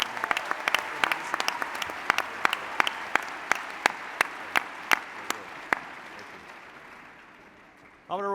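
An audience at the 43North 2021 finals, a company competition, breaks into dense applause that thins into a few scattered claps and fades out, before a voice begins at the very end.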